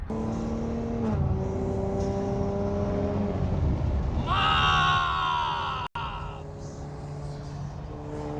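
A Ford Mustang engine revs nearby in a single rising and falling surge over a low, continuous car-cabin rumble, while people talk and react throughout.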